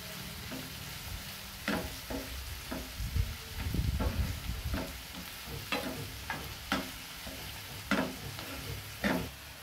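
Salted onions fry in a pan for chole masala while a spatula stirs them. The soft sizzle carries on underneath, broken by repeated scraping and tapping strokes in an uneven rhythm.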